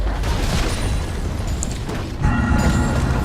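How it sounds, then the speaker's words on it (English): A turret being destroyed in League of Legends: a loud, sustained rumbling blast with crumbling and mechanical debris, then a second heavier burst of booming around the two-second mark. "Red team's turret has been destroyed."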